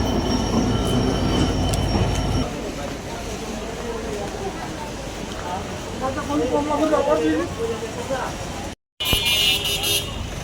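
A train rumbles past with steady mechanical noise and some high squealing from the wheels, a loud continuous roar that eases off and then briefly returns.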